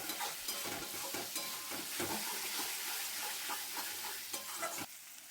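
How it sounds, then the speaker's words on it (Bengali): Ginger, garlic and green chilli paste frying over high gas in a pan of oil for a meat curry, with a steady sizzle and repeated scraping stirs from a spoon, close and lively, ending abruptly with no talk. "আদা রসুন কাঁচা লঙ্কা পেস্ট দিয়ে ভালো করে নাড়াচাড়া করে নেবো"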